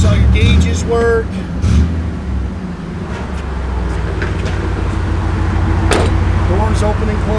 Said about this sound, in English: Doors open and close nice.